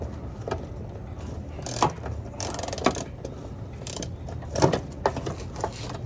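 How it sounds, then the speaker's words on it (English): Metal wrench clicks and clanks during an oil change on a 2006 Mercedes-Benz CLK 500, with a few sharper ratcheting knocks around a steady low mechanical background, close and moderately loud. "I'm working out with the wrench right now"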